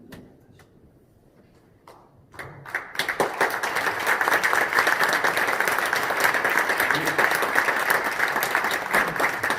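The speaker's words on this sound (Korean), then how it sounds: "뜨거운 격려의 박수를 한번 하겠습니다." After a few quiet knocks and shuffles, a church assembly of a mission committee bursts into warm applause that swells quickly and holds as a loud, steady roar of many hands.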